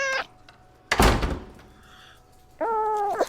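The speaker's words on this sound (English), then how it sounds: "the door just closed" A house door shuts with a single solid thunk, framed by a cat's meows just before and a longer meow right after, in an otherwise quiet room.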